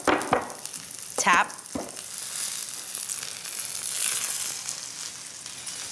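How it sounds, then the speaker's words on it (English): Sliced mushrooms with fresh thyme and a few cloves of garlic sizzle steadily in a hot pan, a constant close hiss with a few sharp clinks and scrapes of a utensil near the start, under a brief spoken word. "I love the little sizzling sound that makes."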